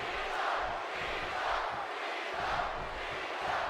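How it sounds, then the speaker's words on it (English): Arena crowd in the WWE 2K16 wrestling game roaring and chanting for a wrestler, a dense continuous swell of cheering with rhythmic surges. "And listen to this crowd come alive for Cena."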